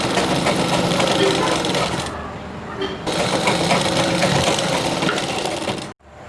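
A sewing machine joins the shoulder seam of a churidar with a loud, continuous stitching drone that pauses briefly once, resumes, and then cuts off near the end.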